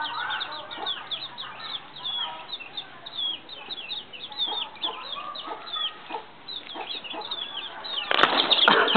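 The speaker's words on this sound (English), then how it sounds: "you see how all of those small chicks ran away from me?" Small chicks in a farmyard in Capiz, Philippines, scatter and run with quick wing flutters and soft clucks. The sound stays fairly faint until a louder burst of flapping near the end.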